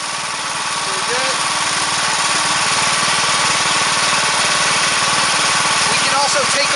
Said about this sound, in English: Let's go turn on our motor now, and we'll start blasting some of this tile.